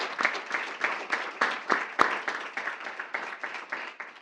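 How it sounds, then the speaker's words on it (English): A school board meeting audience gives a round of applause, the individual claps distinct and rhythmic, moderately close, with one sharp louder clap standing out midway before the clapping tapers slightly. "Let's give a round of applause for that."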